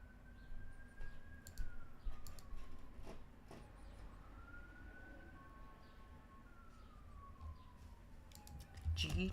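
A rising and falling siren tone from the Pokemon Auto Chess video game sweeps twice across the clip, steady and fairly clear over a busy bed of game clicks and background noise.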